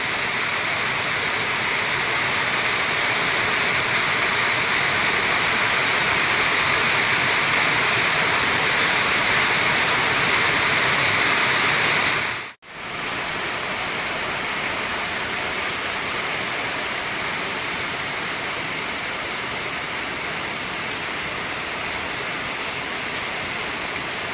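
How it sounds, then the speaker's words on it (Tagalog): Heavy rain pours steadily in a dense, continuous roar, with a brief break midway before the downpour resumes just as strong. "so tuluyan ng umulan"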